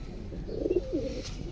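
Sialkoti pigeons, golden birds kept for sale, give a brief low cooing call close by, a couple of soft throaty warbles over a quiet hum.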